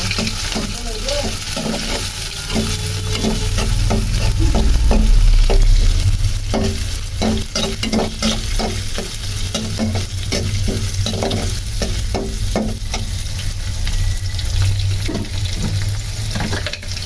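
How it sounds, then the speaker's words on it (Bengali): Prawns fry in hot oil, a steady loud sizzle with repeated utensil scrapes and stirring clicks running throughout, with no talking. "তেলটা গরম হয়ে এসেছে এবং এখানে দিয়ে দিয়েছি চিংড়ি মাছগুলো। সেগুলো সুন্দর করে ভেজে নেব।"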